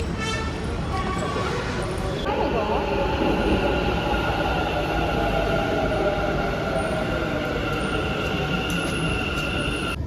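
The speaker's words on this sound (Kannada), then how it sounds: "ಮೆಟ್ರೋದಲ್ಲಿ ಹೋಗ್ತಿದ್ದೇವೆ ಇನ್ನೊಂದು ಸ್ಟೇಷನ್ಗೆ" A metro train in Bengaluru rumbles steadily along the rails with a constant roar and tonal whine, a brief squeal early on.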